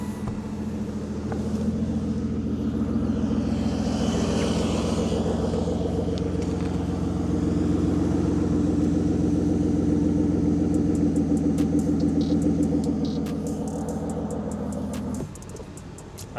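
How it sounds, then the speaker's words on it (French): A classic car's V12 engine idling after start-up, a deep steady rumble that stays loud and even for the whole stretch before dropping slightly near the end, with a few faint clicks on top. "On va démarrer ce V12."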